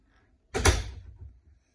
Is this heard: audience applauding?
no